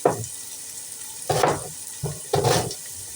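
Chopped onion frying in a pan, close by: bursts of sizzling crackle over a low hiss, swelling and fading as the food is stirred, with no talking.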